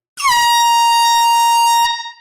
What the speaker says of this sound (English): Second air horn of the night,